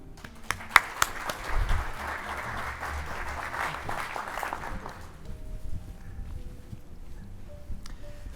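A conference audience at a regional aviation association panel applauds to welcome the moderator to the stage, a sustained round of clapping lasting about five seconds before fading into quiet room noise, with a few louder claps early on.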